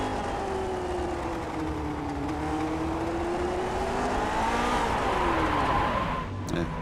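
Onboard engine of a Grand Prix Legends race car at Zandvoort in the iRacing game, a steady, close, droning engine note rising and falling through gear changes and throttle, loud and continuous, with a sharp click near the end.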